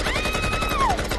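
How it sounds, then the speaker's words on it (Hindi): Rapid gunfire rattles in a quick burst, joined by a high whistling tone that slides downward. "गोली चल रही है।"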